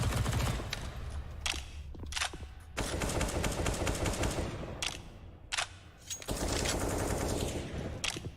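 Rapid SMG fire in CS:GO during a NAVI versus Astralis pro match, long near-continuous bursts with short pauses between them, loud and dense.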